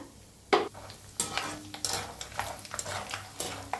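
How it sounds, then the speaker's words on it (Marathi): A cup of peanuts frying in oil for poha chivda, stirred in the pan: a close, steady sizzle with bubbling and scraping stir strokes, plus an occasional clink of the spoon against the vessel, and no talk. "आता शेंगदाणे एक वाटी घेतलेला आहे त्याला बी चांगलं असं तळून घेऊया"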